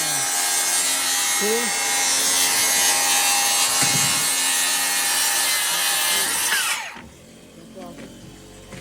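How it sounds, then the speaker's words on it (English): A worm drive circular saw guided by a skate plate cuts through plywood with a loud, steady high whine and a grinding bite for about seven seconds, then spins down abruptly; brief talk is heard over it. "so we are cutting the plywood"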